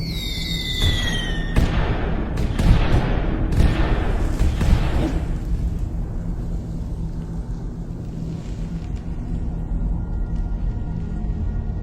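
A fireworks sound effect plays on a live game stream: loud booming, crackling bursts crowd the first five seconds, then give way to a steady low background hum with no talk.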